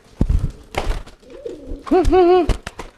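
A caged pigeon bought at a market coos loudly and close, a few short rough calls then a drawn-out, wavering coo near the end, with no speech.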